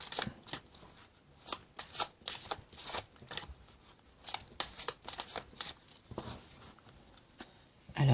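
Fortune-telling cards being shuffled and cut for a reading, a quick run of crisp papery riffles and slaps at close range, repeating irregularly with a louder thump at the end.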